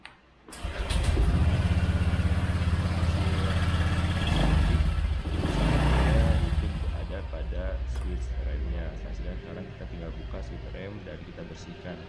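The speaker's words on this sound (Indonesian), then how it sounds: "Nah, kita sekarang mau coba proses starter." A motorcycle that suddenly would not start is cranked on its electric starter and fires up, settling into a loud, steady close-up engine run with a brief rise in revs, while someone talks over it.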